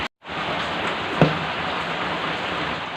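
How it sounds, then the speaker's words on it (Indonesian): Steady rain falling outside, a dense even hiss that holds at constant loudness after a brief silence, with one small thump partway through. "Wah, suasana hujan lur"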